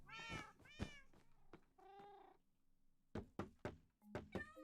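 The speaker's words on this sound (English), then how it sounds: "And we gotta trap a bunch of cats in dark boxes" Minecraft cats let out several clear meows, with a short purr-like rumble and a run of dull thunks and knocks between them, all fairly close and quiet.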